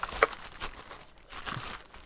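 Faint, close crinkling and tearing of packaging as a CZC Halfling 70% keyboard is unwrapped, with soft irregular rustles and a few sharper crackles and no voices.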